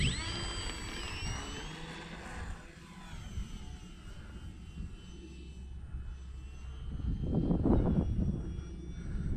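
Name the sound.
FMS T-28 Trojan RC plane motor running in flight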